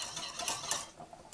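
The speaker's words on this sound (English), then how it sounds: "I gotta stir my stuff here" Food being stirred in a cooking pot with a utensil for pulled pork, a short burst of scraping and clinking strokes close by, with no talking.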